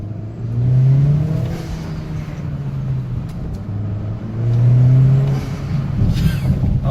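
A Honda Accord or Civic turbo engine revs up twice with a deep, rising roar, close and loud, settling back to a rumbling idle between the bursts.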